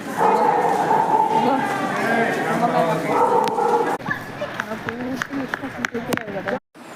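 A large dog barks repeatedly nearby, with sharp yips and whimpers among people talking, a loud murmur at first, then the barks stand out more clearly.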